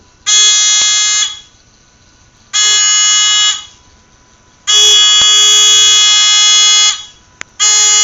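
A loud electronic buzzer on a fischertechnik driving robot blares in four long, harsh bursts separated by short silences, the third held longest.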